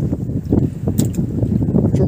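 Strong coastal wind buffets the microphone in a constant low roar, with a few splashing gusts of waves rising and falling throughout.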